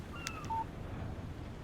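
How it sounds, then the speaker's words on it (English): A phone text message alert chimes in the video game Alan Wake: a couple of short, bright electronic beeps in quick succession, followed by a quiet ambient hum. "Text message from Barry."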